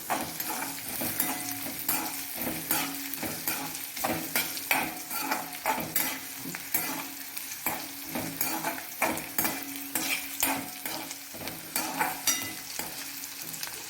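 Garlic and ginger sweat in a pan without browning, giving a steady close sizzle and fry with frequent stirring scrapes and light utensil clinks throughout, and no talk.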